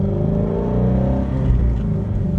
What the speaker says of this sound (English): one of the best exhaust notes in the entire industry